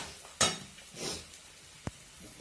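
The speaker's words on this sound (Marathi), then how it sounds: "हे आपण सगळं मिक्स करून घेऊया" Kanda poha, flattened rice with onion, is stirred in a pan with a spoon. A sharp scrape opens, followed by a soft swishing stir and one brief tap against the pan over quiet background sizzle.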